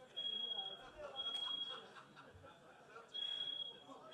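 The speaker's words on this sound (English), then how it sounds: "We got a confirmation that this is alarm, false alarm." A fire alarm sounds in a lecture hall as a steady high beep in long pulses with short gaps, faint beneath a murmur of crowd chatter.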